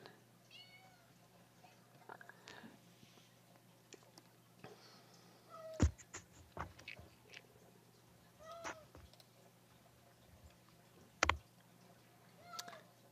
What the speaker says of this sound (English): Can you hear the cat?